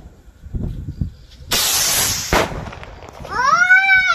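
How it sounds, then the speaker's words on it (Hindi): A firework rocket is lit outdoors: a few soft thuds, then a loud fizzing hiss from the fuse, a sharp crack, and finally a shrill rising whistle as it shoots away. "और ये एक आखिरी रॉकेट, उसके बाद लड्डू के रॉकेट का गेम ओवर"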